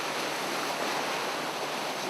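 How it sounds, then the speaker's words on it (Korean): Waves breaking and washing against a rocky East Sea shore fishing spot as the surf rises and turns rough, heard as a loud, continuous broadband roar with no pauses and no voices. "이제 파도가 많이 좀 높아졌어요."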